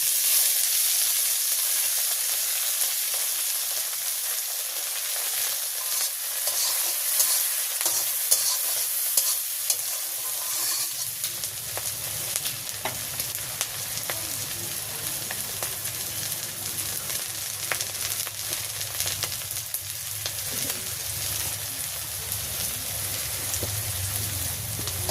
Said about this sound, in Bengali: রসুনের কাঁচামরিচটা একটু ভাজি ভাজি করে নিলাম।